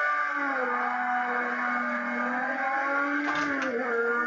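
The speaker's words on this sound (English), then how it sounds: "Listen to that V12 sing." Ferrari 512S V12 engine in the racing game Project Cars 2, holding a loud, steady high-pitched note with rising harmonics, then a brief dip and recovery near the end as the revs shift.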